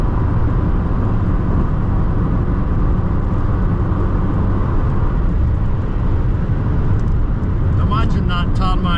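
A Vauxhall Cavalier Mk2 with a C20LET engine drives along an open rural road, giving a loud, steady engine drone and road roar from inside the car, with brief rattles near the end.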